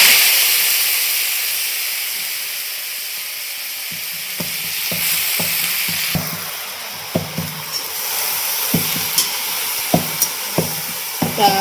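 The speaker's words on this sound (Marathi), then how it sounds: "फुलं फोडणीला टाकली की फुलांचा इकडं कलर बदलायला सुरुवात झाली." Hadga (agasta) flowers dropped into hot oil tempered with cumin and crushed garlic hiss in a steady, loud sizzle, with sharp clicks of a spoon against the pan growing more frequent toward the end.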